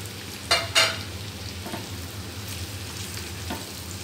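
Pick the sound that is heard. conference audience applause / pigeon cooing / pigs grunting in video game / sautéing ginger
sautéing ginger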